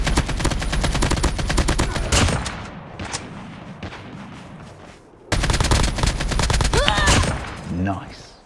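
Dense, rapid automatic gunfire from an AK47 in the Firebreak video game hammers continuously, eases briefly, then bursts back loud and close, with a voice speaking over the shooting near the end.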